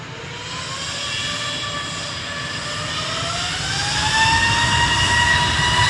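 A Jet2 airliner at Manchester Airport, bound for Paphos, roars with a sustained jet engine whine that rises in pitch and grows slightly louder, heard at a distance and alone.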